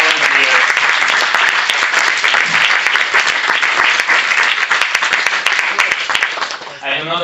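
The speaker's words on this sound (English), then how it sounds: "Big applause for the organizers." Audience applause at a Startup Weekend closing ceremony in Košice, a loud, continuous roar of many hands clapping with crisp individual claps standing out, holding throughout before thinning at the very end.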